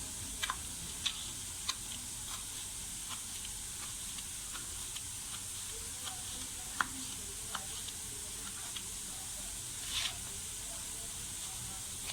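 Potatoes for an omelette fry in a pan with a faint, steady sizzle and scattered soft ticks and pops, quiet and close with no talking.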